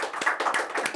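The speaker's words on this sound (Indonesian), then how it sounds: "Oke, luar biasa, tepuk tangan dong." An audience at an Indonesian comedy show claps in brief, scattered applause, a short burst of several hand claps at moderate distance.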